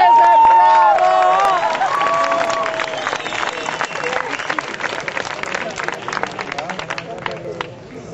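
An audience breaks into applause, a dense wash of clapping mixed with cheering voices and crowd babble, loudest at first and then settling into steady clapping.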